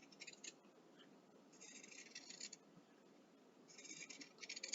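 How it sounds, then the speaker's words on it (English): Scissors cut through a t-shirt along a traced line, faint snipping and rasping fabric sounds in a few short bursts, quiet and close. "and then I'm going to take my scissors"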